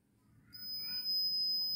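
Piezo buzzer on a school rain sensor model gives a steady, high-pitched continuous tone that starts abruptly and holds, fairly close and alone.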